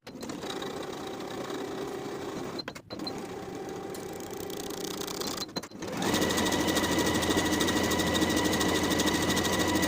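A sewing machine sews a 3/8 inch seam on a dress in a loud, continuous whir, broken by two brief pauses before the motor picks up to a faster, steadier hum.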